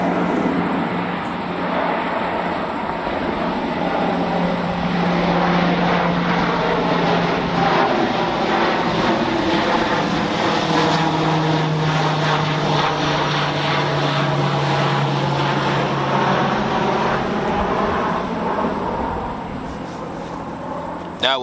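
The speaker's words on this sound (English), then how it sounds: "this is a huge plane already. We're gonna have to wait this one." A huge airplane passes overhead, its engine roar loud and steady for over twenty seconds, swelling and fading slowly with a sweeping, droning tone and no talking.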